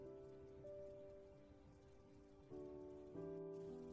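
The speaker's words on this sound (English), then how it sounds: "Rain pelted from the angry sky" Rain falls steadily as a background sound effect under an audiobook's opening, a soft continuous patter joined by sustained musical tones that swell and step up in loudness toward the end.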